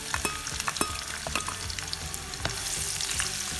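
Chopped onion sizzles in a hot pan with garam masala, a steady frying crackle punctuated by sharp stirring clicks and scrapes, close and continuous with no talking.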